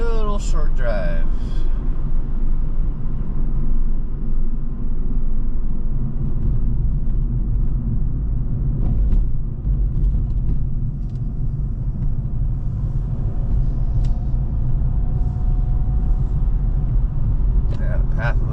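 A car driving at night on a road with many potholes, a steady low rumble of engine and tyre noise running continuously and fairly loud throughout.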